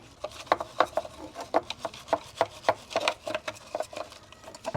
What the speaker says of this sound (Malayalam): ഇങ്ങനെ ഒരു ബ്രഷ് വെച്ചിട്ട് ഉരച്ചു കൊടുക്കുക